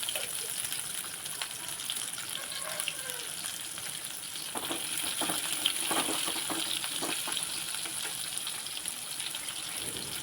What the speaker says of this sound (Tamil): ஒரு கடாயில் சின்ன வெங்காயம் போட்டுக்கோங்க.